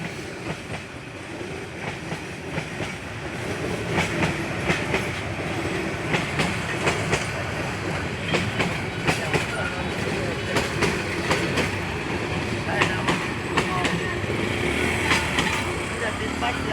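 A train passes a railway crossing gate with a steady, loud rumble and a run of rhythmic clickety-clack wheel beats that grows louder partway through.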